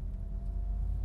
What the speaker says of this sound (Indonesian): Truk batu baraan ini banyak nih.